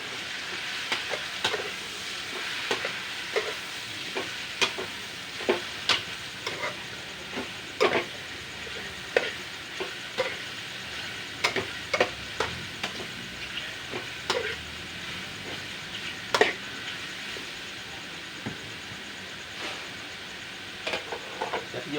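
Garlic and straw mushrooms are stir-fried in a wok with a steady crackling sizzle, while a spatula scrapes and clatters against the pan in irregular sharp knocks throughout.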